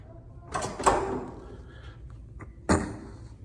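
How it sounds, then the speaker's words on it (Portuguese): A hotel room door is handled in a corridor, with a couple of sharp latch clicks and knocks early on, then a louder single slam-like thud near the end, close and moderately loud over quiet room noise. "Vou bater a porta aqui, hein?"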